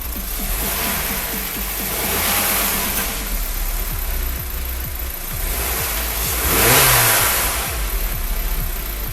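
A 2017 Honda City 1.5 E with a CVT revs hard toward its limiter, a loud, close mid-pitched engine roar that climbs and falls in waves and peaks sharply near the end.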